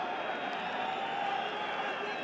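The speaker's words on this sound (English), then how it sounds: "Crowd certainly appreciating the effort made" Stadium crowd at an AFC Champions League round-of-16 football match between Navbahor and Al-Ittihad: a steady, distant roar of applause and murmuring that never breaks.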